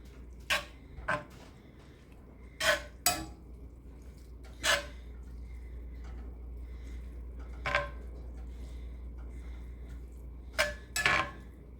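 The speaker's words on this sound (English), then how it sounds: "So let me stir that up real quick." A spoon scraping and clanking against a pan while a hamburger meat mixture is stirred, a series of sharp metallic knocks at irregular intervals over a low steady hum, with no voices.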